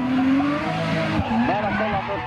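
A drift car skids off the track at a drifting championship round in Pesämäki, Finland, with loud, sustained tire squeal and a wavering engine note that rises and falls across the whole stretch, while commentary runs faintly underneath.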